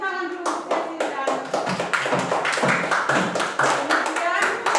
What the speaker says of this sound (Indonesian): tepuk tangan dulu untuk Sesi